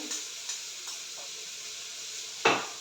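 Onions and green chillies fry in a pan with a soft, steady sizzle and a few light stirring taps, ending in a sharper clatter near the close, with no voices.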